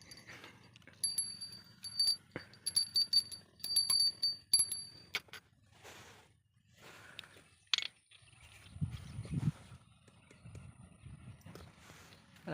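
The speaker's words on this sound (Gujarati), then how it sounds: "નાનકડી ઘંટડી" A small bell rings in quick, repeated bursts of bright jingling over the first half, then gives way to scattered quieter knocks and rustles.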